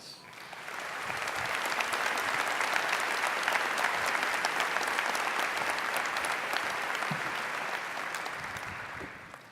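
Sustained audience applause at a graduation ceremony welcoming a speaker, a dense wash of clapping that swells within the first two seconds, holds steady, then tapers near the end.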